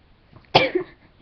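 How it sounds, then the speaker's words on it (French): A single short, sharp cough close to the microphone, breaking a quiet moment. "Attends, je tousse."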